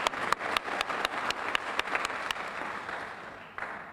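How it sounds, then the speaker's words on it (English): Applause from a seated group at a City College of New York education awards ceremony, a moderate burst of clapping with a few sharp distinct claps that thins out and fades. "So I applaud you, my team at City College."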